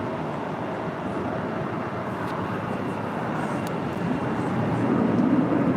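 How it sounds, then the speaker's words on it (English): A Cayman Airways Boeing 737 MAX 8 is pushed back at LAX: a steady, broad jet engine and airport rumble that swells slightly toward the end, with faint voices in the background. "We have Cayman Airways 481 now pushing back."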